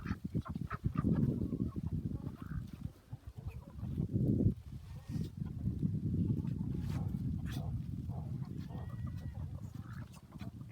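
Poultry in an enclosure give off scattered clucks and honking calls that come and go over a muffled, rustling background, moderately close.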